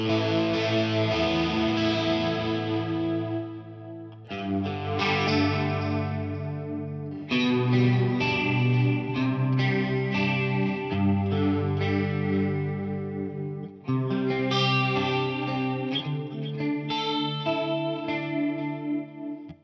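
A guitar played clean through a cheap multi-effects unit, with a chorus-like shimmer on chords and single notes, strummed and picked steadily for about twenty seconds with brief breaks, close and alone without talk.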